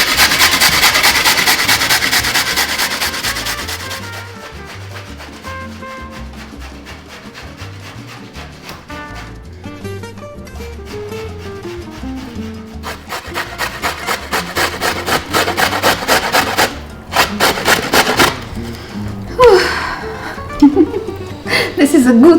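Vegetables are ground by hand in a small kitchen grinder, making rhythmic scraping and rubbing strokes, loud and close, that pause briefly in the middle before resuming faster.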